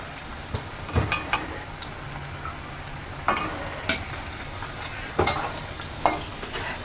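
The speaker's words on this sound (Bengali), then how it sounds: "একদম লাল লাল করে ভেজে নেব" Vegetable chop patties fry in a pan of oil, a steady low sizzle punctuated by several sharp spatula clacks and scrapes at irregular intervals.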